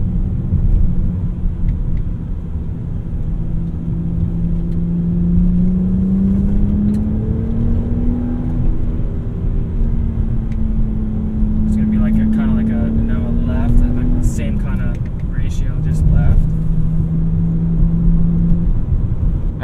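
A 2008 BMW 328i drives along the road with a steady engine drone and tire rumble from inside the cabin, the pitch rising gently and then dropping, while people talk quietly over it.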